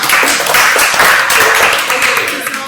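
An audience at a braille book launch claps together in a dense, loud, continuous burst of applause that fades slightly toward the end.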